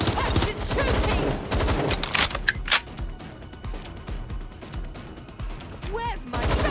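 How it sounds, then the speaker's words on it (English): Gunshots in Watch Dogs Legion, a scattered run of sharp rapid shots mixed with game noise, fairly loud and close, with voices talking over parts of it. "Shots fired. Suspect is shooting."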